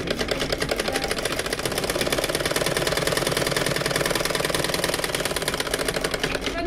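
A sewing machine stitching cloth runs in a fast, even mechanical rhythm of rapid clattering ticks, loud and close, continuous throughout.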